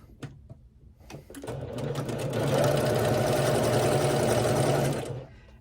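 A sewing machine stitches herringbone quilt pieces together: a few soft clicks, then a steady, close mechanical whirr that runs for about three seconds before stopping.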